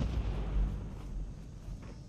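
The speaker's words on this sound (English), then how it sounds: "You don't want to hear the turrets going off and then explode" A video-game turret blows up in a low, rumbling blast, with a boom that swells early and then rolls off into a lingering muffled rumble.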